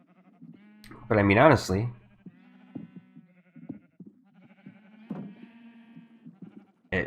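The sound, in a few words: sheep bleating in the video game Minecraft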